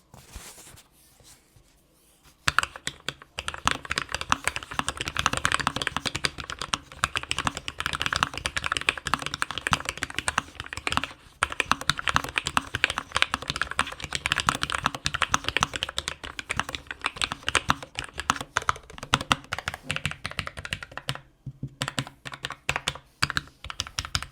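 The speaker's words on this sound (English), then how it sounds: "It has sort of more clicky, hollow sound than a traditional stock." Continuous rapid typing on a Morgrie Air 68 low-profile mechanical keyboard with linear switches, close and steady with a hollow sound, with a brief pause near the start and another near the end.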